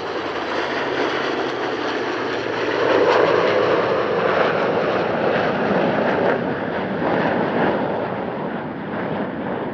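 A trio of Rafale M jets from Flottille 17F flies with the TF-51D Mustang 'Contrary Mary' at the Air Legend airshow in Paris-Villaroche, producing a continuous, heavy roar that swells slightly midway and holds steady, with no voices.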